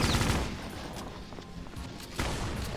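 Rapid bursts of gunfire in the video game Brutal Doom crackle in quick succession, sharp and fairly close, with a sudden louder volley near the end.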